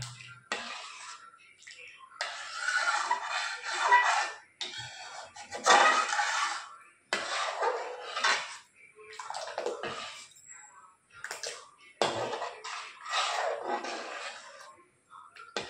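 Kochuri jol being stirred in a cooking pot, a wet sloshing and scraping that comes in uneven bursts, fairly close and moderately loud, with no talk over it.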